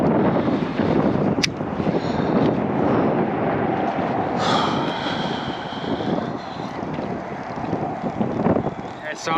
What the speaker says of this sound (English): Dang, it is windy.